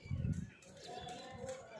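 Pigeons cooing and calling during a pigeon flying tournament, a low burbling coo near the start with faint bird sounds continuing under a speaking voice.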